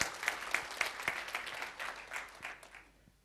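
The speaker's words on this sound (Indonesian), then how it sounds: "Kita beri tepuk tangan untuk kebenaran ini" Congregation applause during a church sermon, a burst of clapping that starts full and thins out, fading toward quiet by the end, with no voices over it.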